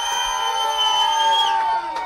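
A live studio audience cheers and whoops in one sustained, loud wash of crowd noise, with a shrill whistle-like tone running through it and a brief dip near the end.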